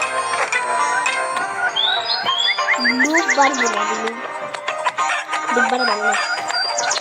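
Chickens cluck and chatter close by, with a rooster-like crowing call rising midway, over steady farmyard background noise.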